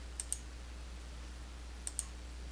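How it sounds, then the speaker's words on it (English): Two quick pairs of crisp computer mouse clicks, close and faint, separated by a quiet gap over a low steady hum. "click Next to continue"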